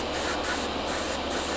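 Short bursts of black exhaust-soot weathering spray hiss along the roof of a model locomotive, four close, loud pulses of airbrush-like spray with brief gaps between them.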